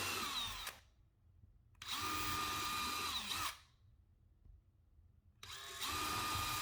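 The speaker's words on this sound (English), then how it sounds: "I'm using a small drill bit to probe for the edge of the stud" A small power drill whines in three short bursts, separated by brief pauses, as a small bit probes a wall for the edge of a stud, close and clear with no talking.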